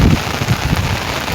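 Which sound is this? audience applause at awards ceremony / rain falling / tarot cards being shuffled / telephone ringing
rain falling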